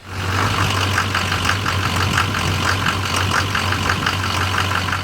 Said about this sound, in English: A lot of rattle, a lot of pinging, a lot of engine noise.